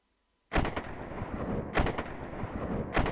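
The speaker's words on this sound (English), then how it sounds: "So now, when we hold the trigger down, it should just keep on firing" Automatic fire from a disassembled gun in the World of Guns simulator, three sharp sustained bursts after half a second of silence, each starting with a loud crack and rolling on as a dense, rapid stream of shots.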